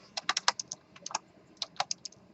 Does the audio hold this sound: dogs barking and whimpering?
no